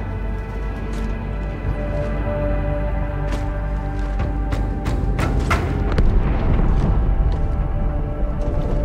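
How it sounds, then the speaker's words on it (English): Heavy rumbling blasts in the Halo 2 video game, set aboard or near the ship Athens, a dense, sustained boom with several sharp cracks and bursts layered over a constant low roar, loud and continuous throughout. "That explosion came from inside the Athens."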